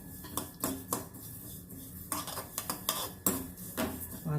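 Fennel and poppy seeds dry-roast in a pan, stirred with a utensil that scrapes and clinks against the metal in quick, irregular strokes, fairly quiet and close.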